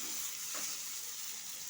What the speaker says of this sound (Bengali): মশলাটা আমি খুব ভালোভাবে কষিয়ে নেব